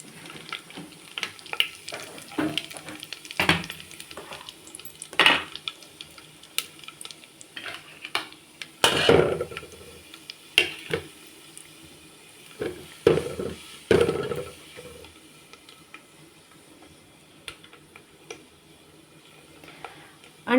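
Mustard seeds splutter in hot oil in a home kitchen pan, with sharp, scattered pops and crackles in irregular bursts over a quiet background.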